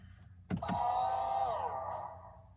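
A couple of quick clicks, then the Abarth 500e electric car's artificial shutdown tone holds briefly before gliding downward and fading out, like a power-down chime.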